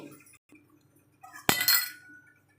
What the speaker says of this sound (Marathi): टोपावर मी झाकण ठेवत आहे